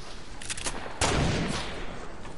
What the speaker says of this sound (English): Are these people still shooting at me?